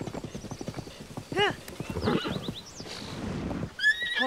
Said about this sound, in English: And there's a horse.